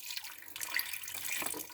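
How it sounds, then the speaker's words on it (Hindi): Hot water pours into a large cooking pot set on a stove, a continuous splashing, gurgling stream heard up close and alone, with no talk over it. "और साथ साथ मैं इसके गर्म पानी डालती हूँ"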